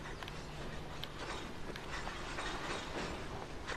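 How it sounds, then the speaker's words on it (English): A distant train on the West Somerset Railway rumbles and hisses steadily as a broad, even wash of noise with faint clattering, with no nearby voices. "I can hear a train somewhere."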